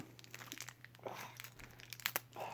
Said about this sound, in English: So we're gonna unwrap this, unbag it.